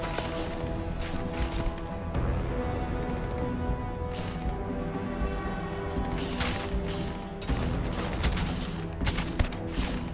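Gunfire in Starfield, a dense, loud burst of rapid shots with sharp cracks and impacts that continues almost without pause for ten seconds.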